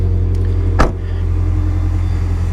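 A car engine with its mufflers removed idles at a steady, loud, low rumble, with one brief thump partway through.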